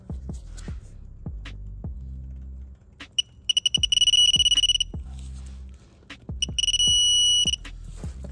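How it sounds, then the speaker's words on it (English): A bolt is torqued down to 40 ft-lb during a timing belt job on a 2011 Kia Soul 2.0L, with steady rhythmic ratchet clicks and bursts of high electronic beeping, no voices. "Go ahead and torque this down."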